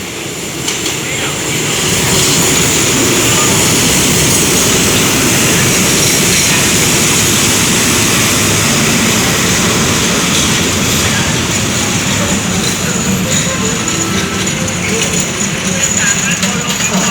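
Express train number 76 pulls into Ayutthaya station with a steady, loud rumble of rolling railcars and wheels, holding a broad continuous roar throughout, with faint voices underneath.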